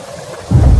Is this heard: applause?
no